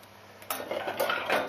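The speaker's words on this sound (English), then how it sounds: "the potato is already boiled, and we're going to put it on the tray" Boiled potatoes are set onto a baking tray in a vegan restaurant kitchen, giving a few soft clinks and scrapes of metal that come close together after a quiet start.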